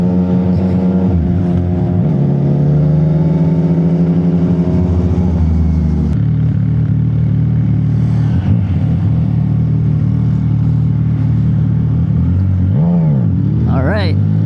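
CF Moto 675 motorcycles, a sport bike and a naked bike, idling and revving at night in San Fernando, Pampanga, with a loud steady engine drone, a pitch drop midway and a sharp rev near the end.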